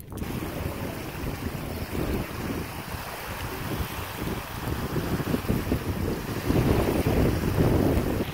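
Strong gusty wind buffets the microphone over a continuous rushing roar, with water and waves faintly beneath, swelling louder toward the end, on a beach at Bahia Concepcion, Baja California, Mexico.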